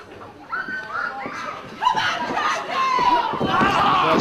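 Wrestling crowd at a title match roars and shouts, building in bursts with voices rising over one another and swelling louder toward the end.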